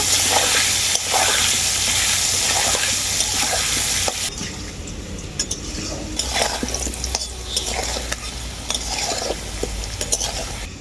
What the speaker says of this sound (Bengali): আলুটাকে আমি খুব ভালো করে ভেজে নেব